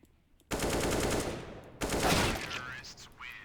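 Gunfire in a shooting video game: two loud sustained bursts of rapid automatic fire, close and continuous, with a brief gap between them and a voice speaking faintly near the end.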